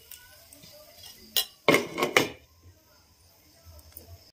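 A lid clanks down onto a pan while besan chilla cooks, a few quick metallic clinks and rattles in a row, then the kitchen falls quiet.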